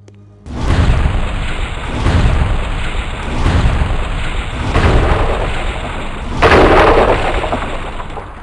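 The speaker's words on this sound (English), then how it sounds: "Why don't you use your new fireball artifact against this wall trap?" A fireball artifact blasts against a wall trap in the Wheel of Time PC game, producing a series of about five loud, rumbling booms in steady succession, with the final blast the heaviest.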